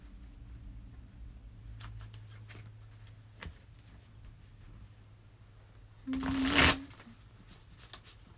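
Tarot or oracle cards being shuffled for a healing card draw: faint scattered riffles and taps, then a loud dense burst of shuffling near the end, with quiet background hum.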